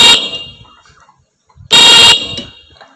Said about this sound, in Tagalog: itong busina natin, pindutin na natin.